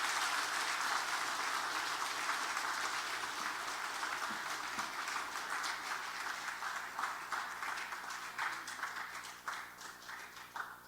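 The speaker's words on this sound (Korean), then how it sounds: "성도 여러분께서는 박수로 환영해 주시기 바랍니다." Church congregation applauding at a Christmas Day service, welcoming new confirmed members of a Korean Methodist church; steady, dense clapping fills the room throughout and slowly thins toward the end.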